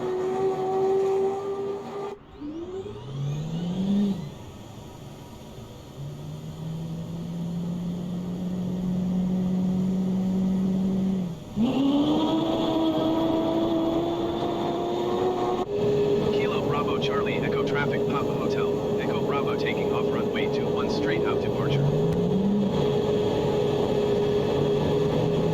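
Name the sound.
F-15 jet engines running, video game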